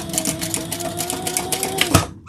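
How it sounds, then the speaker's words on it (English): Sewing machine stitching through leather: a steady, close, rapid mechanical chatter of needle strokes lasting a couple of seconds, ending in a brief louder clunk. "I am just sewing these so they don't move around on me."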